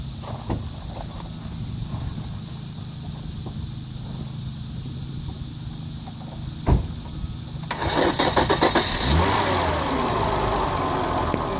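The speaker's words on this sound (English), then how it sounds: "I'm going to go ahead and start the vehicle" A car engine cranks and fires with a sharp start around the middle, then settles into a steady, louder running note from a nearby vehicle, with no voices.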